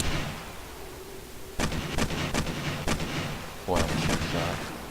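Gunfire in the survival video game 7 Days to Die: a handful of sharp shots crack out in quick irregular bursts after a quieter opening, loud and close, with game ambience beneath.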